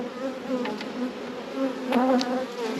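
Honeybees buzz steadily close by around a nuc hive, a dense droning hum that swells slightly toward the end, with no voices.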